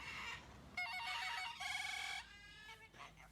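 Bursts of old-fashioned telephone ringing, apparently a bird mimicking the phone: a quiet opening, then two loud buzzing rings in a row, followed by softer trailing chirps.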